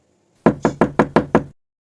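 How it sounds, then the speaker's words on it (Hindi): Knocking on a door at night in a village, six sharp evenly spaced raps in quick succession, loud and close, then silence. "किसी ने मेरे दरवाजे पर दस्तक दिया"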